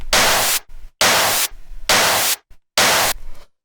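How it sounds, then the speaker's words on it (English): A layered techno snare drum sample with a noise layer plays as four loud, hissing bursts of roughly half a second each, separated by short gaps and faint trailing tails. "And then we have the snare, which sounds like this."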